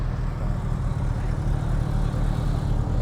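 A Subaru rally car at Castle Combe Rally Day, its engine giving a steady low rumble that holds at a constant level, close by, with no talk over it.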